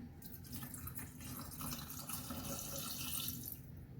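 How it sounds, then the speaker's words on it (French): A small amount of water is poured into a Thermomix bowl while chorba frik is being made, a steady faint trickle and splash running throughout, close but quiet. "je vais mettre un peu d'eau avant"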